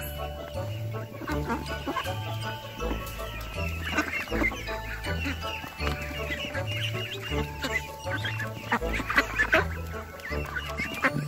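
Forty-five-day-old ducks calling at feeding time, a dense, continuous flock chorus of quacks and clucking calls filling the whole stretch, close and fairly loud, with no talk.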